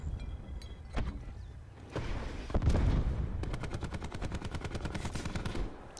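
Rapid automatic gunfire in the video game Call of Duty Black Ops 4, with a few scattered shots leading into a long, steady burst of evenly spaced rounds, fairly loud over a busy game background.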